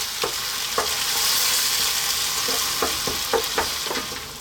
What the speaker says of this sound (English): These are whole tomatoes. Just going to break them down a bit.